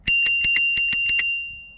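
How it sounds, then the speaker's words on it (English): The bell on a Varla Eagle One electric scooter rings in a quick run of about eight bright metallic dings, close and loud, then a short ringing decay. "The bell,"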